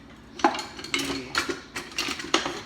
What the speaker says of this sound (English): stir that together, mix it nicely